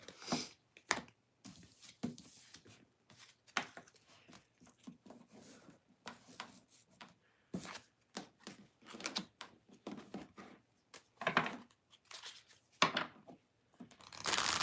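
Tarot cards being shuffled by hand in short irregular bursts of papery riffling and swishing, separated by quiet gaps, close and soft with no speech.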